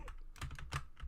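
Loud computer keyboard typing during a fast-paced game: a quick, uneven run of close, clacky keystrokes, several landing hard in rapid succession with no voices over them.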